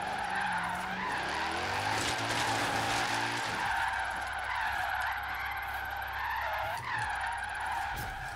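Tires squeal and skid steadily as a car drifts in a racing video game, a loud sustained screech over a droning engine that shifts pitch partway through, with no talking.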